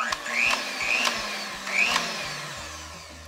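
An electric mixer whirs in bursts as it beats cake batter made with water, oil and two eggs, its motor rising and falling in pitch and running alone up close.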